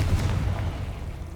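A Confringo blast spell goes off in Hogwarts Legacy, a deep booming burst with a low rumbling tail that fades over about a second, fairly loud and without talk.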